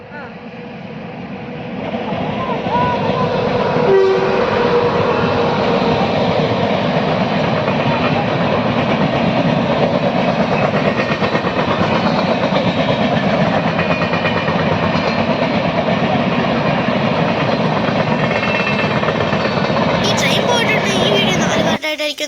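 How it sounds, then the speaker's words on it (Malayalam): A train rolls across a bridge beside a river, a steady broadband rumble of wheels and carriages that holds loud and close for about twenty seconds after building up over the first two seconds. "അപ്പം അതിൻ്റെ മണ്ടയ്ക്ക് തന്നെ ട്രെയിൻ പോകുന്നുണ്ട്."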